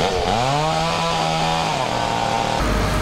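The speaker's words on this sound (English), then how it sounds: "Crews with chainsaws tackled massive trees." Chainsaws cutting through massive fallen trees during cleanup after a 1999 tornado in Salt Lake City, a loud, steady engine whine that rises and falls in pitch as the blade bites into the wood.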